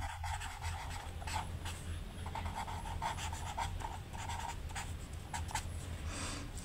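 A pen scratches across paper, writing numbers for a third-grade maths sum: a quiet, steady run of small strokes and scrapes that goes on without a break, with no talking.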